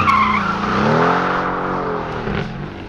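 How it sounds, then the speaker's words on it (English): A 2020 Mercedes-AMG GT R spins a donut on a track with traction control fully off, its engine note sweeping up and down beneath a loud, sustained tire squeal, close and without talk. "So obviously it can do a donut with traction all the way off"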